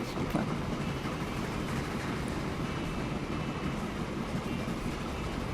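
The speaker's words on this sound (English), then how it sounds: "We're going to ride the train" A steam-era train runs in the video game Transport Fever, set in 1850s America, a steady, even rumble of rolling wagons carrying on without a break and without talk.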